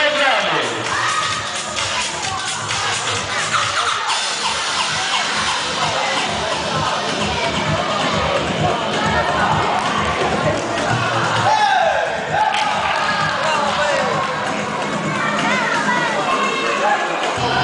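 A circus crowd in Oravița applauds and cheers steadily and loudly, clapping mixed with children's shouts and general babble, continuous throughout.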